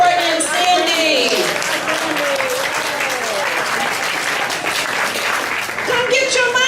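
An audience claps for Courtney and Sandy at an event, with loud sustained close applause that runs the whole stretch while people talk and exclaim over it.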